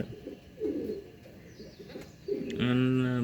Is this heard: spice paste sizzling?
no